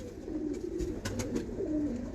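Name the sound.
pigeon cooing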